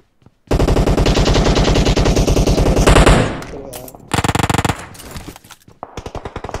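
Rapid automatic gunfire in PUBG Mobile, a long loud burst of close shots followed by shorter bursts and scattered reports, with no speech over it.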